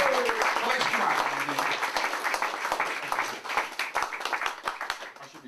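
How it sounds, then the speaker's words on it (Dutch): Applause with clapping from a crowd giving a standing ovation at a Dutch book presentation, steady and fairly loud throughout, with some voices mixed in. "Applaus, want ik een staande ovatie van Lex Schuma"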